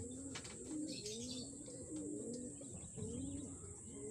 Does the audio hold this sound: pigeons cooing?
yes